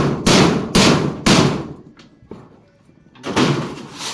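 Holes are punched into tin roofing sheet for screws during house building, giving three loud, sharp metallic impacts in quick succession, a few fainter knocks, then another heavy strike.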